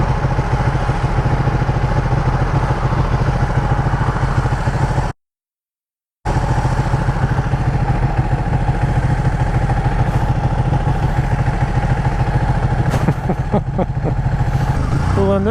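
A Ducati motorcycle's engine drones loud and steady while riding home through slow, brake-lit traffic, with heavy wind rumble and a brief dropout partway through.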